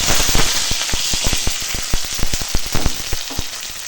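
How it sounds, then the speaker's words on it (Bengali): Green chili, chopped onion and crushed garlic fry in oil in a wok, producing a loud, close sizzle full of rapid popping and crackling spatters, with no speech. "এখানে কড়াই তেল দিয়ে দিয়েছি, এখন এইটাই ফোড়নটা ভেজে নেব।"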